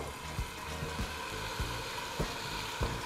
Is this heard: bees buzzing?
no